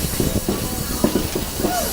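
The Rocky Mountaineer passenger train runs through the mountains with a constant broadband hiss and rumble. Soft rhythmic clicks and faint squeals from the wheels and carriages come through underneath.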